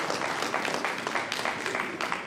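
Audience at an awards showcase event clapping for a company director, a steady patter of many hands at moderate distance, brief and even.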